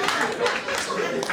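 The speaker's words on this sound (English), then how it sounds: "that was mostly women clapping for that" A comedy club crowd, mostly women, claps for a comedian in a steady burst of applause that fills the room evenly for about a second.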